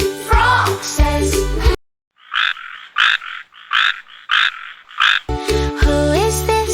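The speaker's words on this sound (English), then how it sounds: "It's a frog, frog says." A small green frog croaks in about six rhythmic, evenly spaced bursts, close and clear, set between stretches of children's music.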